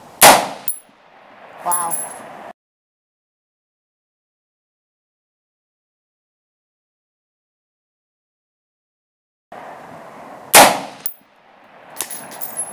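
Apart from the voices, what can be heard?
gunshots from a bare rifle barrel at night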